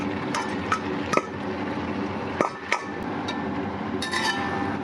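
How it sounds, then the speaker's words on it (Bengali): Shrimp and mixed vegetables stirred in a pan, with a few sharp clinks of a utensil against metal over a steady frying hiss, no talking. "এখন এই সবজির সঙ্গে ভালোভাবে মিশিয়ে নিচ্ছি চিংড়ি।"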